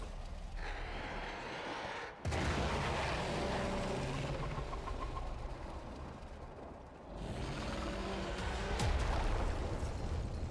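Explosion in the PC video game Warframe, a sudden loud boom cutting in after a quiet opening, followed by rumbling debris and a second swell of noise later, with no speech.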